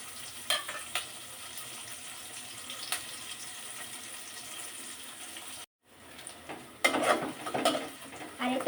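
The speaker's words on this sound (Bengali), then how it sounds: "তেলটা গরম হয়ে গেছে এখন আমি পেঁয়াজ কিছু কাঁচা কিছু দিয়ে দেবো" Raw onions dropped into hot oil in a home kitchen, giving a faint, steady sizzle that cuts out briefly before returning louder and more crackly toward the end.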